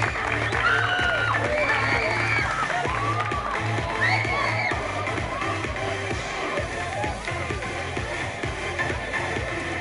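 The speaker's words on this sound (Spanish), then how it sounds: "Aplausos para la madrina." A school crowd claps and cheers for the sports godmother at a Señorita Deportes election, with whoops, shuffling and chatter over a steady beat of music throughout.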